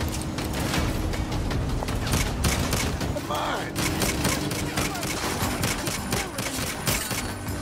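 Gunfire in the Saints Row video game: rapid, continuous bursts of shots ring out loud and dense throughout, overlapping one another with mechanical clatter, while game sounds fill the background.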